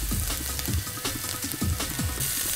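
Chopped onion with a cinnamon stick and cumin seeds frying in hot oil, giving a steady close sizzle with faint scraping and small clinks throughout.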